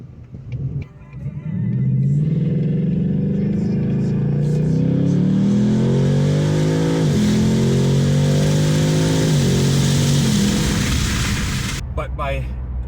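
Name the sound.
2022 VW GLI 2.0T manual car accelerating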